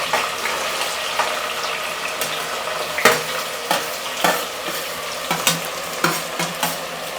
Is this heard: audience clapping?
no